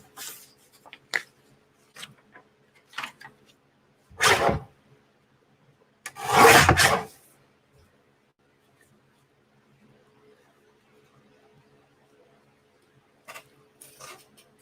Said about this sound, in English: I'm just trying to trim this rough edge off here.